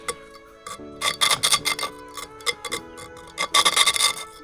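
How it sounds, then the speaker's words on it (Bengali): Stone is cut by hand without any machine, heard as close, bursty rasping and scraping strokes in short repeated clusters with pauses between them. "এই দেখো কাটবে পাথরটাকে দেখো। কোনো মেশিন নেই।"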